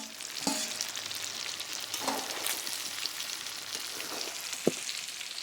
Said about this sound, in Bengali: তো এখন ভেজে রাখা আলুগুলো দিয়ে দেবো, দিয়ে আমি আবারও একটু মাংসের সাথে কষিয়ে নেব।